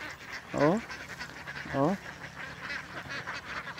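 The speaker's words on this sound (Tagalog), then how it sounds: "yung mga pato eh oh." Ducks give two loud, close quacking calls about a second apart, each a short burst of nasal notes, over a background of ambient noise.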